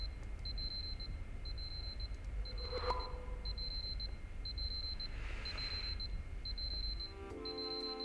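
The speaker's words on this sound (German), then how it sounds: "Ich kann den Wecker nicht ausstellen," An alarm clock rings in the video game Superliminal, a steady run of repeated electronic beeps in even bursts over a low background hum, with no talking.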